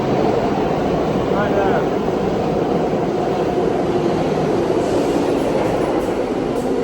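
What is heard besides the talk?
downtown local 1 subway train arriving at station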